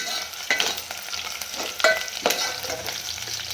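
Spices for a sambar tempering crackle and sizzle in hot oil, with a few sharp pops and stirring scrapes standing out over a steady frying hiss.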